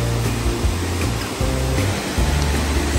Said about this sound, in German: ab hier geht es jetzt parallel zum Wasserfall die Treppe hoch